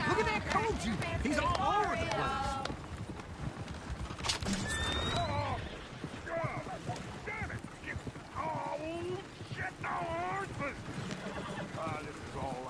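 Horses neigh and whinny in a Red Dead Redemption 2 scene, with hoof clip-clop and busy game chatter and voices throughout; several loud neighs stand out amid the mix.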